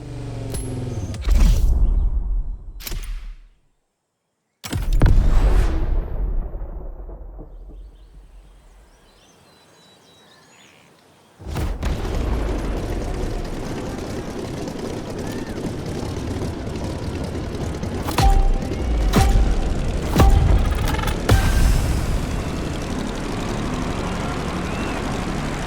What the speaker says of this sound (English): Get ready to meet a United States Marine Corps aviation legend, the Transport F4U Corsair. Immediate takeoff.